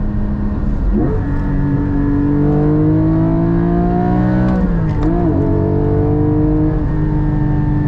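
A Porsche GT4 with manual transmission revs hard from inside the cabin, engine and exhaust climbing steadily and loudly in pitch, then a brief dip at a gear change before pulling up again.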